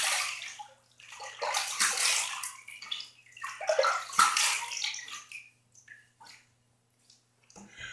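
Water running from a tap to rinse a razor between shaving passes, a hissing splashing flow in bursts that rises and falls, stopping and starting close by, then fading to quiet.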